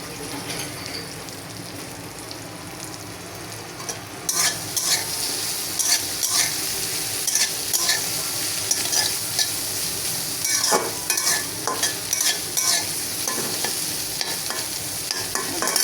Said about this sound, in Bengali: ভেজে নেব শুটকিগুলো।